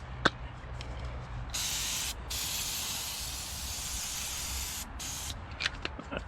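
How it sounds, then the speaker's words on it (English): Brake cleaner sprays in a steady, loud hissing burst of a few seconds onto the rear hub of a 2001–05 Honda Civic, with brief softer spritzes before and after in a workshop setting. "we got to get some more brake cleaner"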